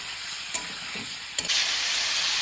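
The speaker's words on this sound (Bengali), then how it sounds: "আলু ভাজার ওই তেলে আমি ভেজে নেব" Meat frying in oil left over from frying potatoes gives a close, steady sizzle. Two sharp utensil clacks come as it is stirred, and the hiss swells louder after the second.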